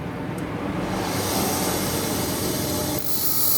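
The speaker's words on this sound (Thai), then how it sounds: "ผมจะเจียด้านบนก่อน" A Thai powder amulet has its edge ground in a steady, close abrasive rasp with a bright hiss, briefly interrupted near the end before resuming.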